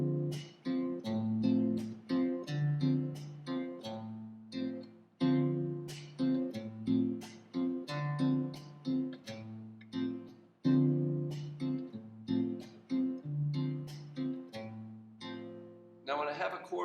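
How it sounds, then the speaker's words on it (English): Guitar in a bossa nova pattern with an alternating bass line moving to the fifth of the chord, plucked notes and chords in a steady syncopated rhythm, close and clear, with no talking. "I can do an alternating bass thing where I"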